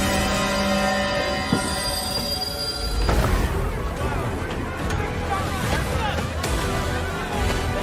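Steam-era train from a wartime survival strategy game trailer, wheels squealing and cars rumbling along the rails, with steady mechanical noise beneath a narrating voice and dramatic music.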